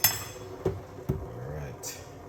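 A spoon knocks against a pot holding parsley, giving a few sharp metallic clinks about half a second apart, with faint kitchen background between the hits.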